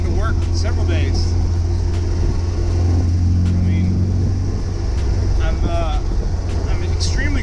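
A 1974.5 MGB sports car on the road, its engine giving a steady low rumble with road noise throughout from inside the cabin, while a person talks over it.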